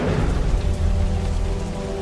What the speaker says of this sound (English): the sky became black with clouds and wind, and there was a heavy rain.